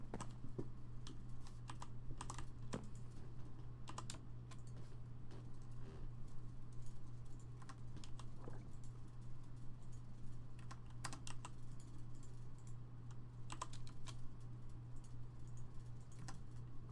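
Soft, quick keystrokes on a computer keyboard tapping in irregular clusters over a steady low electrical hum, faint and close, with no voices.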